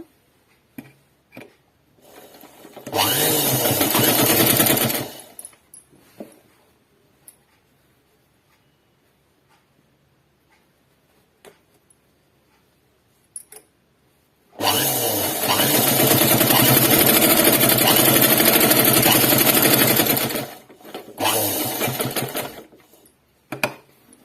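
A sewing machine stitches the collar of a neck dress in two long loud runs of steady whirring, with a short burst near the end and quiet handling between them.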